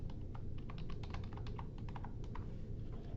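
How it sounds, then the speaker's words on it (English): Rapid, light clicking of keys on a computer keyboard as credentials are typed in, a quick irregular burst of taps over a faint steady background hum. "just type in our credentials here"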